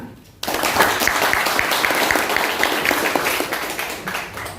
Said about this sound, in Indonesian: mari kita dukung, tepuk tangan